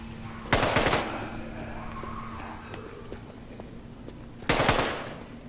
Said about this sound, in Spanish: Se escuchan disparos aquí, pero no sé dónde está